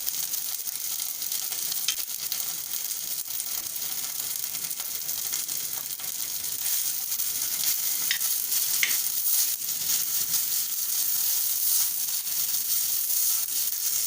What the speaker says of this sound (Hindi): हल्का सा ही फ्राई करना है, ज़्यादा नहीं।